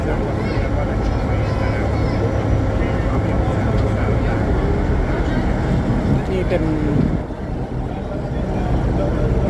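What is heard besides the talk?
river ferry boat engine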